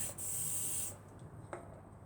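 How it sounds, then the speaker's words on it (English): A short, close hiss of aerosol lubricant spray lasting under a second, followed by near silence with a faint click. "just spray the stuff everywhere"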